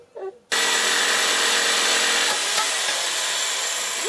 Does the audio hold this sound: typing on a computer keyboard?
no